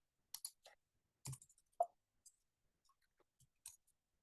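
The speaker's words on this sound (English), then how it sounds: "I'm typing it." Scattered key clicks and taps in a quiet room, a few quick bursts of typing separated by pauses, close and fairly soft.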